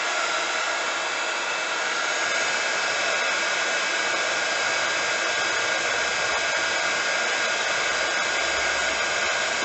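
A heat embossing gun blows a steady, loud, unbroken hairdryer-like whoosh and whine while melting embossing powder on a card, with no talking over it.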